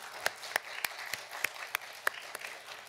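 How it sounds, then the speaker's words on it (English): Sparse, fairly faint claps from a municipal meeting audience in Wichita ring out at a slow, uneven rhythm, roughly eight distinct hand claps over three seconds rather than a full ovation. "Can we please give Nathan and Spencer a round of applause?"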